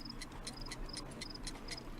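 Ticking clock rigged as a homemade bomb with wires on its bell and hammer, in the Sherlock Holmes: The Devil's Daughter video game; steady, even ticks about four per second, close and clear over faint background hum.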